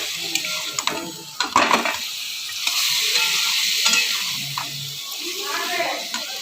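Chicken legs simmering in spiced masala with added water in a pan, a close, steady bubbling sizzle with occasional utensil clinks and stirring scrapes.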